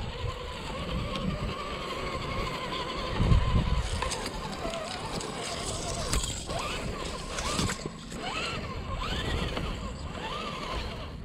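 An HSP Boxer PRO RC off-road car drives along with a soft whirring motor and creaking, rattling suspension, moderately close and steady, with someone talking over it.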